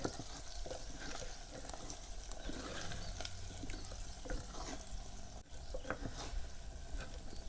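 Spices are stirred into frying chillies in a pan in a village kitchen, a soft continuous sizzle with repeated scraping strokes under faint background noise.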